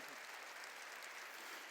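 A church congregation applauds during a Korean sermon, a dense, steady wash of clapping hands that stays even and fairly close for the whole moment, with no voice above it.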